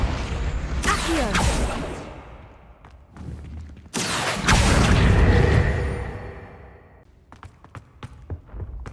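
Summoning-spell whooshes from the Accio charm in Hogwarts Legacy, two loud swelling magical bursts in quick succession, each rising and then trailing off, followed by a few faint clicks.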